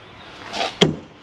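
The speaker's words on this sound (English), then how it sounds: "Lock and deadbolt your door." A brief sliding scrape ends in a sharp metallic click, a single door lock bolt snapping into place, close and clear.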